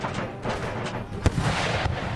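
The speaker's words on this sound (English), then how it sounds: "Artillery coming in, musket shot coming in." Artillery and musket fire on an Empire: Total War battlefield, a steady crackle of distant volleys under one sharp, louder cannon-like report near the middle, with low rumbling thuds after it.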